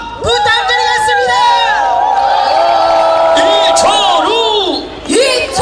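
Large crowd at an outdoor Gyeongsan election rally for a Gyeongbuk governor candidate roars and cheers loudly and continuously, with whoops, whistles and amplified voices layered in, easing off briefly near the end before swelling again.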